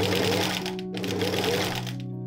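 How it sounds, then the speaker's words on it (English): A sewing machine stitches soft boning onto the seams of a dress, running fast and loud up close with a brief pause partway through. "I could do so by sewing it on."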